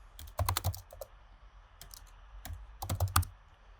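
Computer keyboard typing a file name in Adobe Illustrator, with two quick clusters of crisp, close key clicks separated by a few isolated taps.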